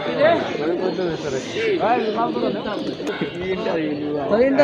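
Pigeons coo at a weekly pigeon market in Nagarpur, soft repeated throaty calls mixed with nearby voices and general market chatter.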